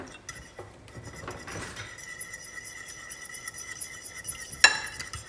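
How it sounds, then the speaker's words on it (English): A fork whisking a marinade mixture in a bowl, with light repeated clinks and scraping against the dish, ending in one sharper clink; fairly close and quiet. "I'm gonna just whisk it a little bit with a fork"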